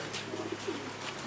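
Pigeons cooing softly at a scrapyard and rubbish dump, a few low throaty coos in a short run, faint against a quiet background.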